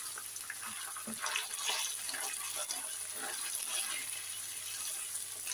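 Water poured from a glass into a pot of soaked rice for cumin rice, a steady gushing splash that continues for several seconds at moderate loudness with no talk over it.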